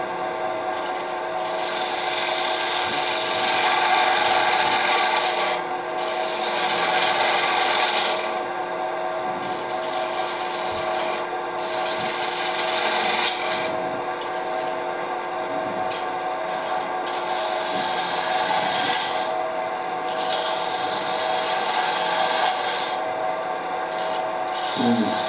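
A spindle gouge with a standard tip cuts a small wood spindle on a lathe, making a steady, close rasping scrape that pulses slightly in strength as the tool follows the curve, over the constant hum of the machine, with no talk.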